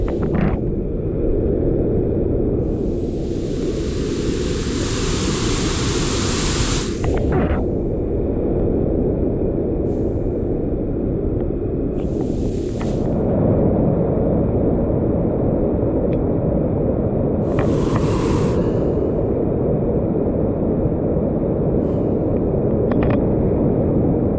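Rani Duduma waterfall, dropping in three tiers, gives a loud, constant roar of rushing water, dense and unbroken, with a few brief hissing gusts, likely wind on the microphone.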